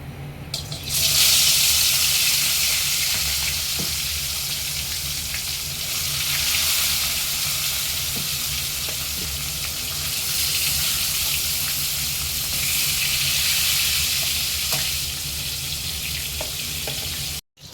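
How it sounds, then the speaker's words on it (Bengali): Fish pieces rubbed with salt and turmeric fry in hot oil for a katla curry, a steady loud sizzle running almost the whole way with faint kitchen clatter and no talk. "প্রথমে মাছগুলো ভেজে নিচ্ছি"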